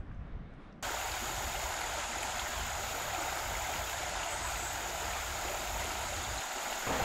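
Water pours out of a tidal pool as a small waterfall at low tide on a wild Australian coastline, a steady, full rushing roar that starts abruptly and continues unbroken.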